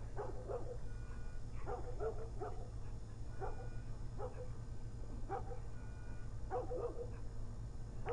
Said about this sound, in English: Shut up, stupid dogs.